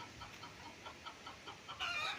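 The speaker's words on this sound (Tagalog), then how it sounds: "At sa ngayon may mga alagang manok" Pet chickens on a farmhouse property in Nagcarlan, Laguna cluck softly at a distance, a series of faint, evenly spaced clucks ending in a slightly louder squawk.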